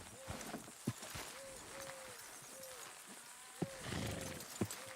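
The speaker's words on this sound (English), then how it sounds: "Horses will pull it clean down." Horses in Red Dead Redemption 2 straining to pull a load, with clip-clopping hooves and snorting over a dull background rumble, broken by a few sharp thuds.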